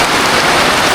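Steady rain pours onto farm plants, a dense, even hiss of drops close by that stays loud and unbroken for the full second.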